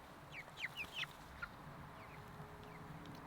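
A chicken on a farm gives a short run of soft clucks close by over quiet outdoor background.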